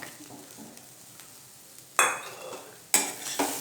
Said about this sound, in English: Now to this coconut, just you have to saute it for just half a minute